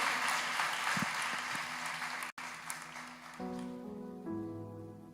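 Church congregation applauding visitors, a steady wash of clapping that fades out midway, followed by sustained organ or keyboard tones.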